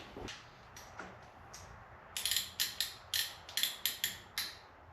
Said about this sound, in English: And then I use clamps.